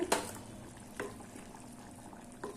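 A pot of okra tamarind curry (vendakkai puli kuzhambu) simmering on the stove, with soft bubbling and a low hiss under three brief louder pops or clinks, no talking.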